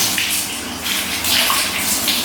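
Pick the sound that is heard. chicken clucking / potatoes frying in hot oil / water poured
water poured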